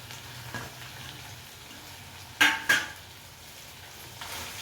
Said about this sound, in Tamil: சேர்த்து ஒரு 2 நிமிஷம் அப்படியே வதக்கினோம்னா சுக்கா ரெடி ஆகிடும்.